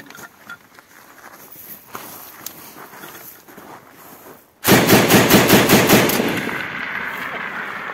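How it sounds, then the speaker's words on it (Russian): An RPD-O hunting machine gun fired from the hip: quiet outdoor rustling and steps give way to a sudden loud, rapid burst of shots lasting about three seconds, then an echoing tail. "От пояса стрельба из пулемета."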